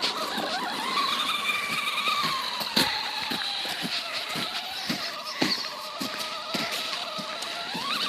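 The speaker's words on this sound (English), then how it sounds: "This is the ECS Rucas 2-wheel drive RC truck." An ECX Ruckus two-wheel-drive RC truck drives with a high electric motor whine that rises and falls as it speeds up and slows. Sharp thumps and bangs from jumps and landings break into the whine, close and alone without talk.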